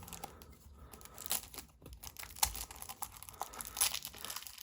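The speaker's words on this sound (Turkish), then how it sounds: "Yine kutusundan şöyle açalım." A Tomica Premium die-cast model car box is opened, giving continuous close crinkling and tearing of cardboard and plastic wrap, with small rustling bursts throughout and no voices.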